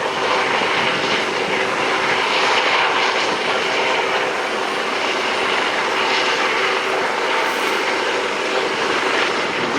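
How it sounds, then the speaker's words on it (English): Metro Hospital helicopters make a flyby at a helicopter demonstration, a loud, continuous rotor and engine roar that holds steady and close throughout with no break. "helicopters doing a flyby. There's another one over here."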